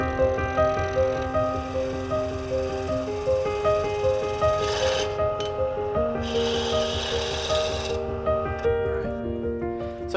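Wood spinning on a lathe in a woodturning workshop, a steady rubbing, rasping scrape repeating with each pass of the tool, with a brighter hiss of cutting swelling around the middle and again later, under a constant tonal hum.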